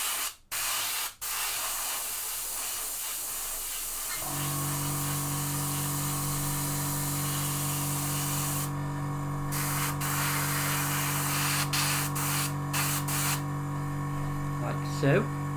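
An airbrush compressor runs as a steady, close hum with a faint hiss of Vallejo Metal Color paint being sprayed, constant for most of the stretch after a few short knocks at the start.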